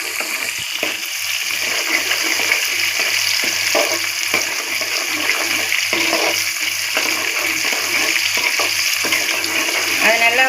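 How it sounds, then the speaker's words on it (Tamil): Onion, green chili, curry leaves and garlic sauté in a pan, giving a continuous crackling sizzle broken by stirring scrapes and light clatters. Nobody talks. "இப்போ வெங்காயம், பச்சை மிளகா, கருவேப்பிலை, பூண்டு எல்லாம் போட்டாச்சு. இப்போ நல்லா அதை வதக்கி விடலாம்."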